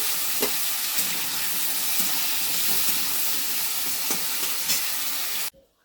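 Potatoes for a poppy seed dish frying in a pan, a steady broadband sizzle with occasional stirring scrapes, close and loud, cutting off abruptly near the end.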